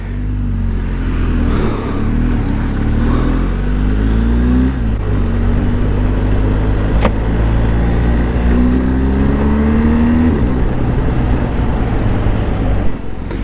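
A BMW R 1250 GS Adventure motorcycle engine runs continuously while riding, with a steady loud drone that rises and falls through several gear changes, under wind and road noise and without talk.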